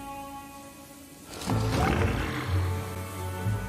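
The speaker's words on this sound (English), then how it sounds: "The door opened." A door opening in Luigi's Mansion 3, a sudden loud rumbling, growl-like burst over a low steady hum, sustained for a couple of seconds; no talk.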